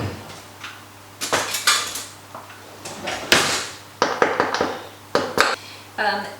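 A kitchen drawer is opened and a spoon is pulled out from the cutlery, giving a string of sharp metallic clinks and rattles, near and fairly loud, with a brief low voice.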